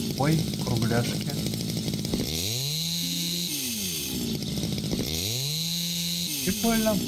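A motorized saw cuts wood in the building game House Builder, revving up and bogging down in two long cutting passes over a steady engine drone, with someone talking over it.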